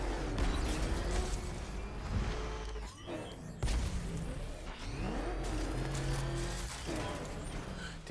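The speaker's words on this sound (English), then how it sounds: "I just back up, rev, and shoot for the moon." The Batmobile's engine in Batman: Arkham Knight revving and rumbling through a steady low drone, with mechanical whirs and a short dip before it surges again, no voices.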